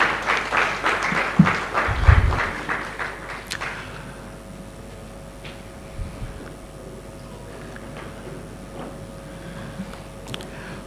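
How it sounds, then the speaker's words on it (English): An audience at a formal conference on national unity claps for a distinguished guest, a burst of applause with a few heavy thuds that fades after about three seconds into quiet room tone with faint scattered sounds. "please keep clapping"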